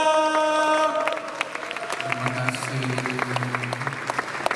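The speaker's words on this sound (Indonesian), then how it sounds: "Saya nak dengarkan tepukan yang paling-paling gemuruh untuk tuan rumah kita View Malaysia." Applause at a drama series launch event in Malaysia, scattered hand claps heard over music with sustained tones and melodic notes, the clapping fairly faint and steady beneath the tune.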